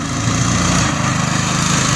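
A small cyclekart engine runs on a test drive with a new motor mount and rear frame, giving a loud, steady buzzing drone close by with no break.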